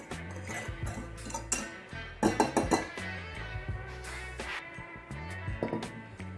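Eggs and sugar being mixed in a bowl for traditional crème pâtissière: repeated clinks and taps of a utensil against the bowl, with a denser burst of rapid clattering near the middle, steady and close.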